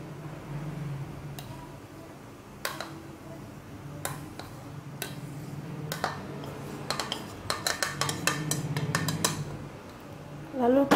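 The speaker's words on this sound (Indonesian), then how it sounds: "Lalu kita aduk sampai merata." A spoon works flour into boiling butter in a pan over low heat for crisp choux pastry, scraping and clicking in scattered taps that grow quicker toward the end.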